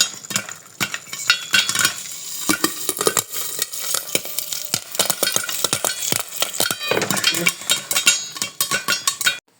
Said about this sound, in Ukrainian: Накриваю обов'язково кришкою, тому що розлітається такий попкорн по всій поверхні.